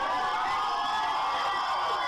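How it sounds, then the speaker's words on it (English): Audience at a live show with a crowd cheering and clapping, a dense, steady wash of noise for a couple of seconds. "That's good applause."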